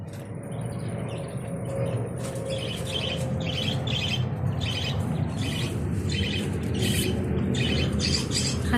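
Twenty male quails crowded into a small cage call repeatedly at close range, a series of sharp squawking chirps in rhythmic bursts over a steady background hum.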